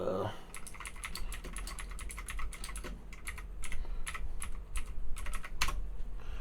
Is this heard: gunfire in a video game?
no